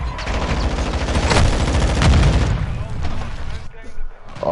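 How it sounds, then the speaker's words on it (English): A stun grenade going off in a video game gives a burst of loud, crackling blasts lasting a few seconds before fading, with a voice speaking over the noise. "Throwing a stun grenade."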